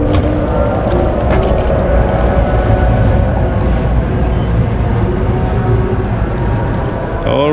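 A small motorboat approaches a dock in Sharjah, its engine drone and water wash forming a loud, continuous rumble with wind buffeting the microphone throughout.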